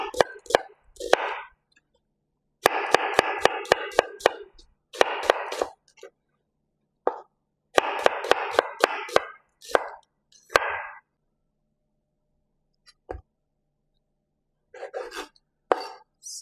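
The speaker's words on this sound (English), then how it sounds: "Now I'm going to cut the onions. Cut the onion." A knife chops onion on a cutting board in quick rhythmic bursts of sharp taps separated by pauses, close and clear, while preparing Jamaican steamed callaloo.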